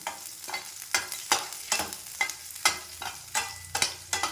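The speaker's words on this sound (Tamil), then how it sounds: "பூண்டு வெங்காயம் வணங்கிட்டுக்காங்க." Garlic and onion sautéing in a pan for guava chutney, a spoon stirring in regular scrapes about twice a second over a steady close sizzle, with no voices.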